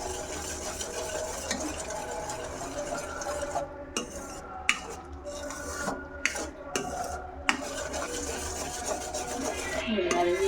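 A spoon stirs a coconut and jaggery filling syrup in a pan as it cooks down for kayi obbattu, scraping steadily with occasional sharp clinks against the metal, close and continuous throughout.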